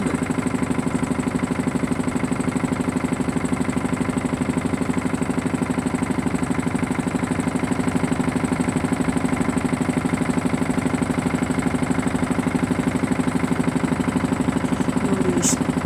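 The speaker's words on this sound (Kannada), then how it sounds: "ಈ ಬೋಟ್ದು ತುಂಬ ಸೌಂಡು." A tourist motorboat on the river at Varanasi runs its engine at a steady, loud, close drone with a throbbing hum that stays constant throughout, with no talking.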